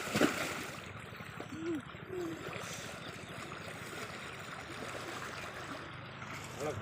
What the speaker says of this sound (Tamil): தண்ணி வேகமாக போகுது.